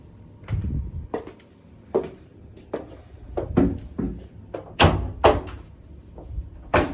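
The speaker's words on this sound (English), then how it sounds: "This is the door of the washroom." Washroom door in a hotel room being opened and shut several times, with a run of close, sharp knocks and thuds of uneven rhythm, loudest toward the end.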